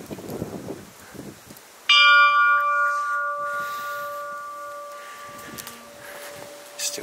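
An old bell at an abandoned 18th-century château strikes once loudly and rings on with a long, slowly fading metallic tone, with faint voices and room noise around it.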